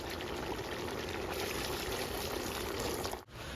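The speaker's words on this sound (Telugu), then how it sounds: "ఇప్పుడైతే నీళ్ళు పోసుకుందాం." Water poured into a pot of chicken curry makes a steady, quiet, continuous rush that stops abruptly near the end.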